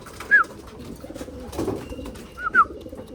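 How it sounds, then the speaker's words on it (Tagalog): Racing pigeons, just fed, give two short cooing calls about two seconds apart against faint background noise. "Busog na to mga kalapatids."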